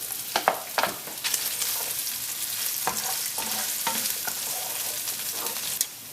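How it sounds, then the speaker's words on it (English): Bacon and celery sizzle steadily in a hot pan, with intermittent sharp scraping and stirring knocks from a utensil over the constant frying hiss. "I've been frying the bacon and the celery now for around about 5 minutes"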